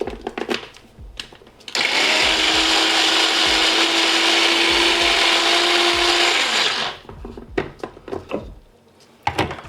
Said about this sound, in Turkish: Şimdi robotun içine soğanlara doğrayarak başlıyorum.